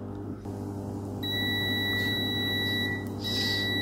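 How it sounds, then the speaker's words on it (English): A multimeter on continuity test beeps with a steady high electronic tone while checking the fuse of a microwave oven, sounding continuously for a couple of seconds over a low electrical hum. "You need to check with multimeter. This is a continuity test"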